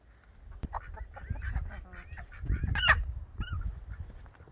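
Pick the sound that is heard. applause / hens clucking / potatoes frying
hens clucking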